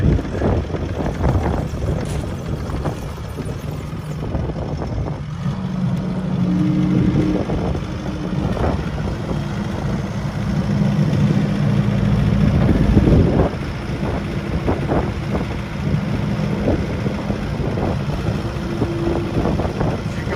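The engine of a 2024 Kubota SVL65-2 compact track loader runs steadily close by, a loud continuous rumble with uneven surges and clanks, with no talking.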